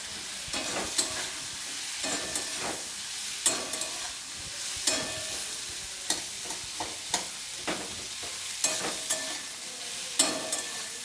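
Bitter gourd with chopped onion and slit green chillies stirred in a frying pan: repeated close spatula scrapes and knocks over a steady, soft sizzle, with no voices.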